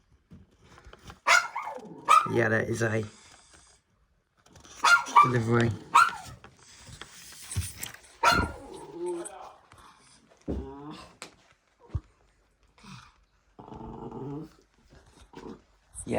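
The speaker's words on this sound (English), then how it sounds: "That's one of my dogs barking" A pet dog barks and growls in short bursts near a home as a washing machine is delivered next door, with someone talking between and over the barks.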